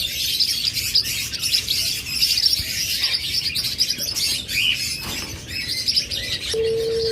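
Albino redrump parrots, kept as pet birds, chirp and tweet in a steady overlapping chatter with thin high calls, moderately close and with no voices.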